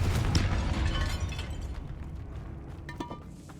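Fire spell explosion in the Hogwarts Legacy video game, a loud burst at the start with crackling debris that fades out, followed by a faint second pop and clatter near the end.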